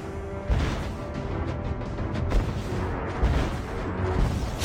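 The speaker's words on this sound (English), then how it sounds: "Your team destroyed a turret!" Destruction of a turret in the Mobile Legends video game, a dense rumbling crash with a few heavy booming hits, loud and continuous game audio throughout with no talk.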